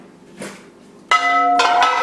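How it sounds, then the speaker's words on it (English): Glass knocking against glass while orchid pots are handled for watering: one soft clink, then two bright ringing knocks that linger with a bell-like tone, close by and alone. "Excuse the racket, glass on glass."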